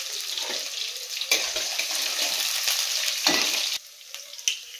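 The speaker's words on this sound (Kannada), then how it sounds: "ಇದು ಸ್ವಲ್ಪ ಶಾಲೋ ಫ್ರೈ ಆದರೆ ಸಾಕು" Chopped onions, cumin and curry leaves shallow frying in oil give a steady bright sizzle with a few scraping stirs and brief dips in the hiss.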